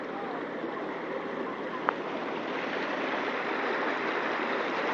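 Floodwater rushes steadily through Nagan Raya during the November 2014 flood. The wash is loud and continuous, with a single sharp click partway through.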